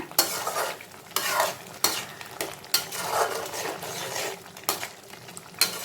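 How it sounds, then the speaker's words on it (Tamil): Crushed jaggery is stirred into tomato pachadi in a pan, with repeated close scraping strokes of a spoon over a soft simmering sizzle, several distinct stirs spaced through the sound. "நம்ம இடித்து வச்சுருக்க வெல்லம், பச்சடிக்கு தேவையான அளவு சேர்த்துக்கிறேன். சேர்த்துட்டு நல்லா கிளறி விட்டுக்கோங்க."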